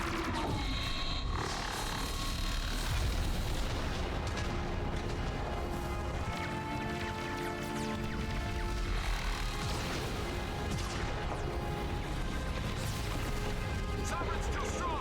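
Explosions and crashing impacts ring out during a Normandy gunfight in Mass Effect 1 Legendary Edition, dense and continuous over fifteen seconds, mixed with music and a voice talking.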